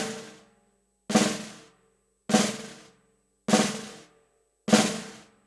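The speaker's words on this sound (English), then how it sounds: "that left hand stroke, is we're going to play it as a buzz stroke." A left-hand flam played as a buzz stroke on a drum, repeated five times at an even pace, each a loud, close, sizzling buzzy hit that decays quickly into silence.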